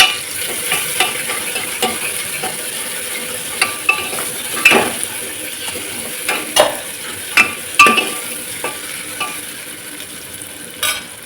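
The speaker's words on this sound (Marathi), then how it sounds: "त्याच्यामध्ये कोथिंबीर आल्या लसणाची पेस्ट टाकायची आहे ती पण छान अशी मिक्स करून घ्यायची" Coriander and ginger-garlic paste sizzle in a pan, with a soft frying hiss broken by frequent close scrapes and clinks as a spoon stirs the mixture.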